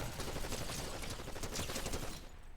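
Fortnite video game gunfire, a sustained loud barrage of rapid shots and impacts running nearly unbroken before cutting off near the end.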